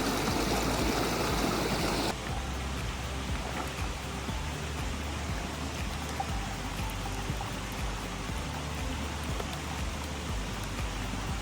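A cold mountain creek flows near at hand on a backpacking trip, a dense, steady rush of water whose tone shifts slightly after the first couple of seconds, with no voices.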